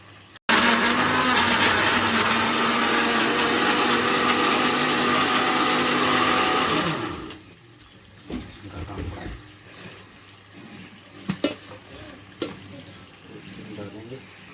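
A mixer grinder whirs loudly and steadily, grinding ingredients for Bombay biryani, then cuts off and winds down, leaving quiet kitchen handling noises.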